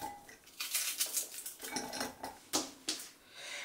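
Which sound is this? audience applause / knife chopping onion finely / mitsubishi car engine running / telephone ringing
knife chopping onion finely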